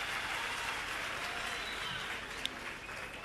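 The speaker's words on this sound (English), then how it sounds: "let's also give Mem Mapi for a round of applause" Audience applause at the EmpowaYouth Week 2022 launch event, honouring the main sponsor. It is a steady, even wash of clapping from a room of people that holds at a moderate level for the whole stretch.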